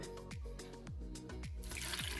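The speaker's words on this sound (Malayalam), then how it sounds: "ഇനി ഒരു ഗ്ലാസ് വെള്ളം ഒഴിച്ചു കൊടുത്തിട്ടുണ്ട്" Water pouring and dripping into a cooking pot while a sweet potato dish is prepared, a series of soft plops and drips followed by a brief splashy gush, quiet and close.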